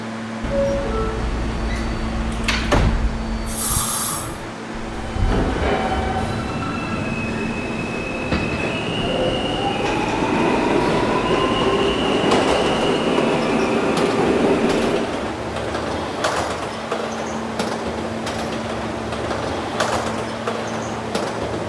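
A video-game D subway train bound for Rentar Plaza rumbles and rolls along the track, with a sharp squeal early on, drifting whistle-like tones and steady wheel noise throughout.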